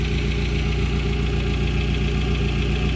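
Steady idle of a 1992 Volvo 460 turbo engine with a ZF 4HP14 automatic gearbox fault, a constant close, even engine drone with no change in note throughout, no talking.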